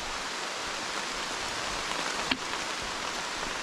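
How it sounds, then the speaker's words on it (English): Rain falls on a forest hiking trail along the Arkaquah Trail, a steady soft hiss throughout with one brief sharp tap partway through; no one speaks. "More rain."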